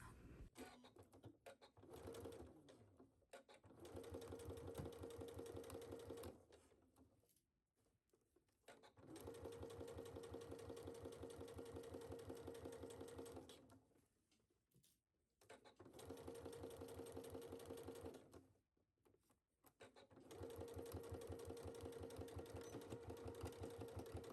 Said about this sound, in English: I'm gonna go back to my sewing machine and I'm gonna actually stitch it down on this side